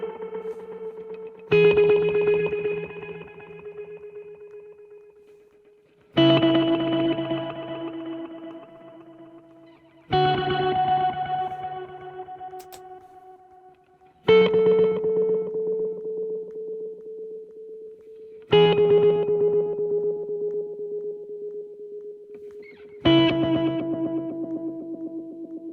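Guitar played through a Meris LVX delay pedal with high feedback: six plucked notes or chords spaced a few seconds apart, each ringing on with repeating echoes that slowly fade, no talking.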